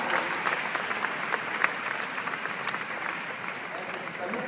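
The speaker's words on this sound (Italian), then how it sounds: "Un applauso alle mamme" An audience at a Miss Italia pageant final in Jesolo applauds the mothers, producing a dense, steady wash of clapping with a few louder claps standing out.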